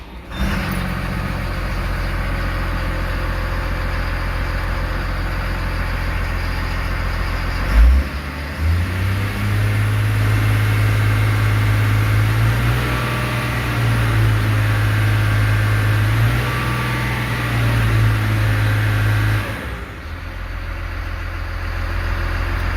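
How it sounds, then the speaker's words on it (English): Diesel engine of a Cat IT28G wheel loader idling steadily, then labouring under load against the brakes in a stall test in third gear, a deep sustained drone that rises and holds before dropping back. "I'm good to do a stall test of the brakes"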